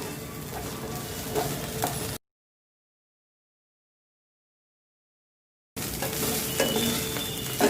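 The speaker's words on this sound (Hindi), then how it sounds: "अदरक लहसुन के पेस्ट को पका लेंगे हम।" Ginger garlic paste frying with browned onions in a pan, giving a steady, close sizzle that cuts out to silence for several seconds and then returns.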